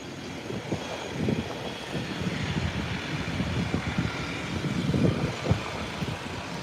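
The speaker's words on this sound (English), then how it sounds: "It's an Embraer 120 coming in from Cape Haitian, Haiti." An Embraer 120 turboprop airliner arriving from Cape Haitian, Haiti, rumbles with a steady, fairly loud droning engine roar that swells slightly as it nears, with no talk over it.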